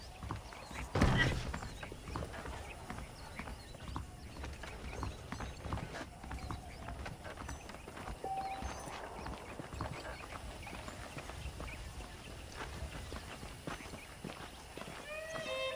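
Saddled horses' hooves clip-clopping at a walking pace in the Red Dead Redemption western game, a soft, steady patter of hoofbeats with a voice speaking over them.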